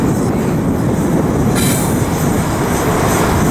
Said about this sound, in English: Give this train plenty of space.